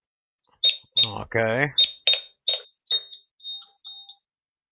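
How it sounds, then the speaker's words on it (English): Home security alarm keypad emitting a series of short high beeps, about eight in a row, as the alarm is switched off by passcode, with a voice speaking over the first few. "turning my alarm off"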